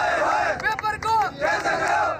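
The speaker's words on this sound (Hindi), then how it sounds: "सियालकोट में इंटरमीडिएट के तलबा ने एहतजाज किया, अपने फेवरेट वज़ीर तालीम के खिलाफ नारेबाजी भी की।" Intermediate students protesting on the streets of Sialkot chant slogans in unison, a loud rhythmic crowd cry rising and falling in short bursts.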